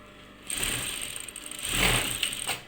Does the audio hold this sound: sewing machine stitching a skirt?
yes